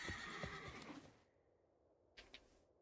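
A horse whinnies loudly in a digital card game as the Ostrich Horse card is played, a single rising neigh that fades out, followed by two quick soft clip-clop hoof taps.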